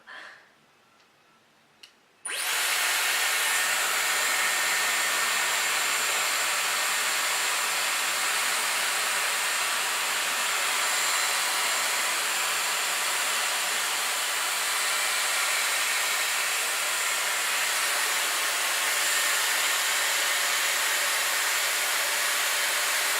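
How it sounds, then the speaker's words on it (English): Dyson Hair Wrap blowing a steady, loud rush of air while drying and curling hair, starting abruptly after a brief quiet moment and then running continuously without talk. "So I'm just waiting for it to dry the hair."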